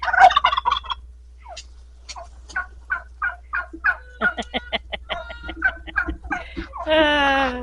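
Turkeys gobble repeatedly in quick rattling bursts, close by, with a few sharper calls and a long warbling gobble at the end.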